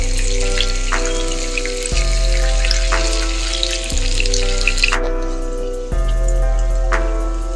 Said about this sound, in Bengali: লালচে করে ভাজবো আমি।